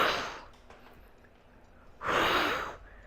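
Exaggerated breathing during an ab crunch exercise: a loud, close breathy exhale, then a quiet pause, then a second forceful exhale, with no talking.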